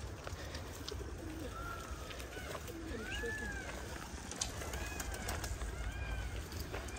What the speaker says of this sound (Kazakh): Көгершін.